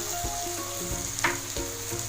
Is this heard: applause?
no